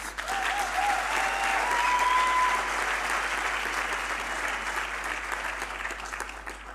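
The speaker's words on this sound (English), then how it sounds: "they really once again deserve a round of applause." Steady applause from a room full of people at a university graduation ceremony, dense and sustained clapping that holds at an even level throughout before easing slightly near the end.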